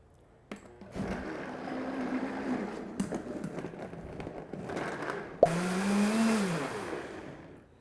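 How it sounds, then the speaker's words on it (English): A kitchen blender whirs on high speed as it purees a bright green smoothie, a steady mechanical drone that starts after a brief pause, with a sharp clunk partway through and a louder, higher motor surge near the end. "So we will blend this on high speed for about 2 to 3 minutes until it is bright green."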